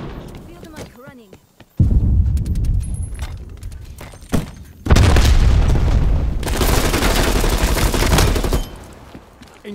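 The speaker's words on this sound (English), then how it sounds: "Throwing grenade." Grenade blast and gunfire in Call of Duty Black Ops Cold War multiplayer; brief clicks, then a heavy boom followed by sustained loud rumbling fire and bursts, with game voice callouts mixed in.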